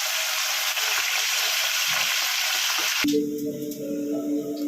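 Korra fish (murrel) frying in oil in a pan, a steady loud broadband sizzle filling the first three seconds, then an abrupt drop to quieter bubbling with a low hum, suggesting the pieces are being lifted out.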